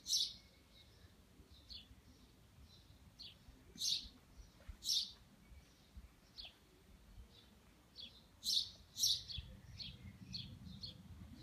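Sparrows chirp near nest boxes in a village: short, sharp tweets come in scattered bursts over quiet outdoor ambience, with no talking.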